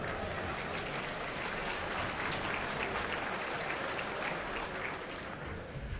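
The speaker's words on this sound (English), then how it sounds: "Give yourself a round of applause." A conference audience at a DEFCON talk claps in a steady, dense wash that holds strong for six seconds and tapers slightly at the end.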